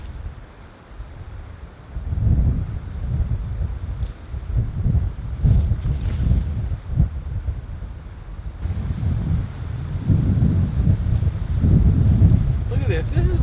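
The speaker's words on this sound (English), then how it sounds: "It's a little windy." Gusty wind buffets the microphone at an exposed hammock campsite ahead of a thunderstorm, a steady low rumble that swells and fades in waves with occasional louder gusts.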